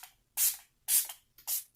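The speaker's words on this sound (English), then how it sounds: "I'm going to go ahead and set everything down real quick with the Revolution Conceal and Define Infinite Setting Spray" Revolution Conceal and Define Infinite Setting Spray mists onto a face in three quick, close pumps, each a bright hissing burst separated by brief quiet pauses.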